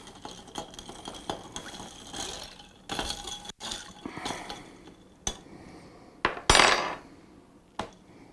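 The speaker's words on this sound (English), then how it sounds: "Give it a stir." A spoon stirs a coffee and cream liqueur drink in a glass, producing light clinks and scraping taps at an irregular pace, close and fairly quiet, with one sharper clatter near the end.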